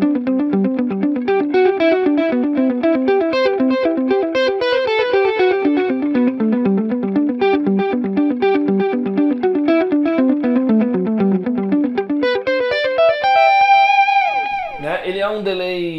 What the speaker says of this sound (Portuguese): ele é baseado no delay de fita, né, o Echoplex, tá bom? Um delay de fita bem famoso aí